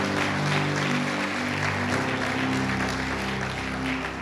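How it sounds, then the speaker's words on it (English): Church congregation applauding during a Sunday morning service, a steady wash of clapping layered over sustained organ or keyboard chords that hold underneath throughout. "Can we give her a round of applause?"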